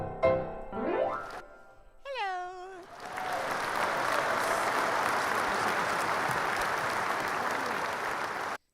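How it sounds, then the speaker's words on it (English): Applause from a crowd on a piano bar show, a broad, sustained clapping that swells in and holds steady after a few opening sounds, including a meow-like tonal cry. "They can't hear you over the thunderous applause"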